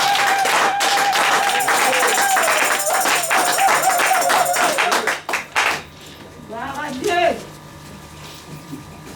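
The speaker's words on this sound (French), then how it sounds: "Est-ce que vous pouvez me donner un peu quelques acclamations là?" A church audience breaks into loud applause and cheering, with dense clapping that fades out over several seconds. A single voice then cries out briefly above a quieter room.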